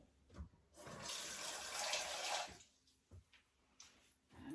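Tap water runs into a saucepan for making Cumberland sauce, a short close rushing pour lasting about two seconds, followed by small clinks and drips.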